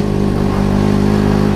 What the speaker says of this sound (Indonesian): resiko di jalan ini naik Vespa dengan knalpot racing